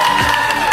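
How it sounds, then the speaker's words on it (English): Big audience applause and cheering for twenty teenage pageant contestants at the Miss Teenage Canada 2023 show, a dense, loud, steady wash of clapping and crowd noise. "Let's have another big round of applause for tonight's 20 contestants."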